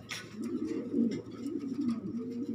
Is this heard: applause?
no